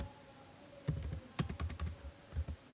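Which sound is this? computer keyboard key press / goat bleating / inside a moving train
computer keyboard key press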